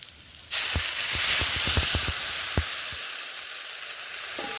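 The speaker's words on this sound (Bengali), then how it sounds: "এতে এবার দেবো সামান্য একটু জল।" Water poured into a hot pan of homemade pickle with jaggery bursts into a loud, sudden hiss that holds steady as a spoon taps and stirs in quick strokes, then eases slightly toward the end.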